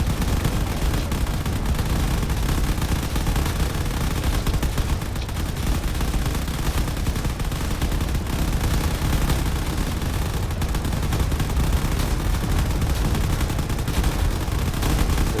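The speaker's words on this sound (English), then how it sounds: "There's definitely a lot of cannons here trying to do whatever damage they can to all the ships." Cannons in a video game naval battle fire relentlessly at ships, a dense, continuous roar of overlapping booms and gunfire that stays loud and steady throughout with no talking.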